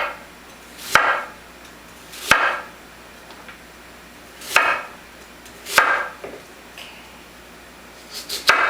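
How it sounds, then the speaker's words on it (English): A kitchen knife slices sweet potato on a cutting board, giving five or six separate crisp chops, each a sharp thud followed by a brief scraping tail, close and fairly quiet with no talking. "You can cut them on an angle if they're very skinny to get them a little bigger."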